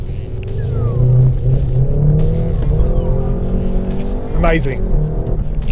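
A SEAT Leon Cupra 300 is driven hard in sport mode, its engine revving and rising through the gears, loud and close. Someone talks briefly over the engine.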